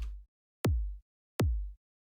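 Two punchy clicky kick hits from a Kick 2 pop chirpy preset, each a sharp snap that sweeps down into a booming low tail lasting under half a second, evenly spaced and isolated.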